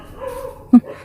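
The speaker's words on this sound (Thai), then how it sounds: "เสียงหมาเห่าแล้วครับ" A dog gives a single short, sharp bark against a quiet, low background hum.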